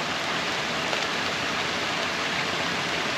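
Steady rain falls beside a backyard creek waterfall, forming a dense, even hiss of water without pause over the few seconds, close and fairly loud, with no voices.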